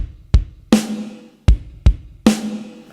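One bar of a drum groove on a kit, played alone and close: punchy bass drum thumps and two sharp, ringing snare hits in a steady stomp-stomp-snare pattern.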